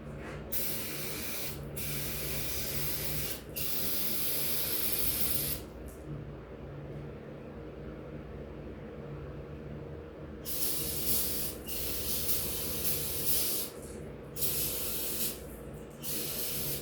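Brake cleaner sprayed onto a dirty spark arrester from a Honda 280e, a loud steady aerosol hiss in long bursts broken by brief pauses, with a quieter gap midway before spraying resumes in short blasts.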